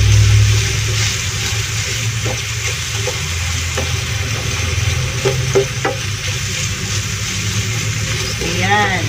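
Ingredients sizzling and being stirred in a hot pan, a steady frying hiss with occasional clinks of a utensil against the pan, close and fairly quiet.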